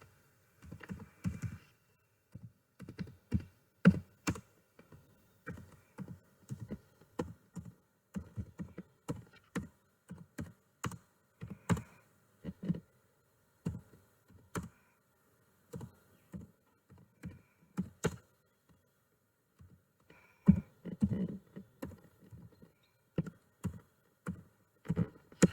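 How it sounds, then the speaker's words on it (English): Someone types text into an MS Word document header on a computer keyboard. The keystrokes come as crisp, close clicks in short bursts, separated by brief quiet pauses. "I'll type here Skillverse Technologies"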